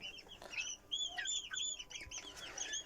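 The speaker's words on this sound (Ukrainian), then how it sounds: "Покажу ще наших індюшат і курчат." Many turkey poults and chickens chirp and peep in quick, high overlapping calls, a busy group of young birds nearby on a village farm, fairly soft.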